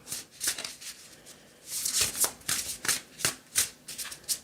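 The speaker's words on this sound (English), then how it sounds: "let's go ahead and pull a couple of oracle cards" Oracle cards being shuffled by hand: close, crisp riffling and slapping, with quick rhythmic flutters that repeat for a few seconds.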